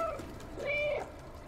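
A cat character in the video game Stray gives one short, rising meow in a quiet game scene.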